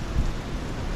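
Typhoon Mawar in May 2023 brings a steady, loud roar of storm wind and rain, dense and unbroken, with a low gusty rumble swelling briefly near the start.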